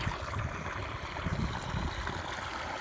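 Water pours without pause from a freshly drilled borewell about 75 feet deep, making an even, rushing gurgle that stays at the same level throughout, with no one talking.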